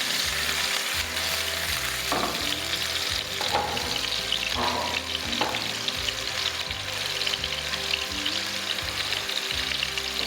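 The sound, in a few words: gola kebabs shallow frying in a pan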